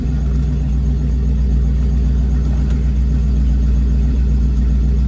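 A turbocharged 5.0 Ford Ranger engine running before a drive, a loud, close, steady low rumble at an even idle with no talking.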